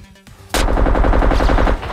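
Gunshots in the SCUM survival game crack out loud and close, a rapid run of repeated reports lasting just over a second after a brief quiet lead-in.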